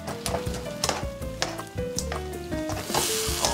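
Sea urchin roe added to a hot pan, sizzling loudly and continuously up close with clinks of a utensil against the pan and a hissing swell near the end.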